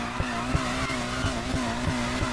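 A car revs steadily in the racing video game NFS Heat, its engine droning continuously with a faint rhythmic low thump and possible tire scrub, loud and close with no talking.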